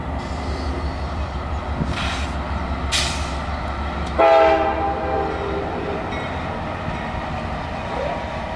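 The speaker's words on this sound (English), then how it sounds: "Here comes the train." A train rumbles steadily past nearby, with a loud horn blast in the middle over a constant low mechanical roar.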